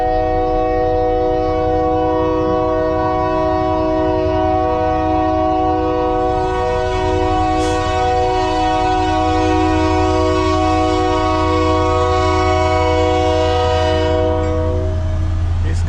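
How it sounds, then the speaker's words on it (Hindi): A long container freight train rolls past a level crossing, its loud, steady horn blaring for the whole stretch over a constant rumble of wagons, close and without pause. "ये देखें रेल जा रही है, ये वो लेके आती कंटेनर्स है, कंटेनर लेके आ रही है गाड़ी।"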